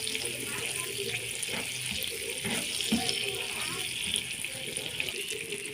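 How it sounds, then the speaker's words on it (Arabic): A cup of milk is poured into caramelized sugar and melted butter in a pan, giving a steady continuous pouring and bubbling wash throughout, close and alone. "بالشكل ده هنزل بقى بكوبايه اللبن"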